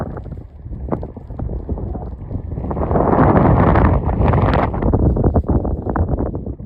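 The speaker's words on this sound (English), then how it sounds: "This bit because it's a windy ridge." Strong wind on an exposed mountain ridge buffets the microphone in a steady low roar, swelling louder for a few seconds midway before easing slightly, with no voices.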